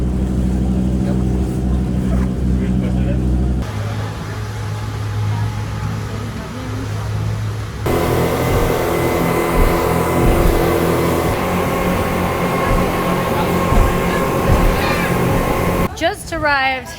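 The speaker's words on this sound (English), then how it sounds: "They put us on a speedboat immediately after getting out of the taxi." A loud, steady speedboat engine drone with broadband rush and shifting tones, continuous throughout on the way to Koh Phi Phi, Thailand, with voices talking over it at times.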